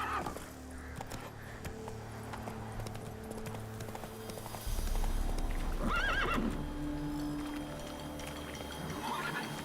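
Roach, the horse in The Witcher 3, gallops with rapid rhythmic hoofbeats that grow heavier midway, and a clear, shrill whinny cuts in just after the middle.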